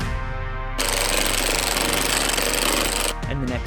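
Truck wheel lug nuts on a Ford 7.3 Powerstroke being driven down by a power tool, one loud rattling hammering burst of about two seconds, close, with a quieter rumble before and after.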